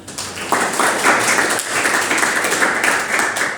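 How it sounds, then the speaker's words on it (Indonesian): Sustained applause from an audience during a lecture-style teaching session, dense clapping throughout, fairly loud and steady with no clear talk over it. "Tepuk tangan."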